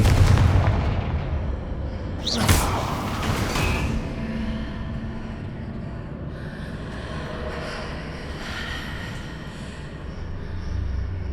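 A Confringo blasting spell explodes in the Hogwarts Legacy video game, a sharp booming burst about two seconds in that rings out before fading under a steady game background rumble.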